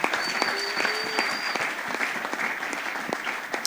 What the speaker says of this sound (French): Oh, tu fais bien d'acclamer.